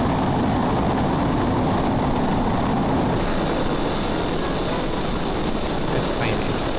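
A jet aircraft engine in Microsoft Flight Simulator 2020 gives a steady, loud roaring rush that holds throughout, with the tone brightening and a thin whine rising partway through.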